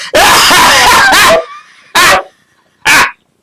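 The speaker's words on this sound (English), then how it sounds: "We're chasing the dogs." Dogs barking loudly and close: a long run of overlapping frantic barks and yelps, then two separate single barks with short pauses between.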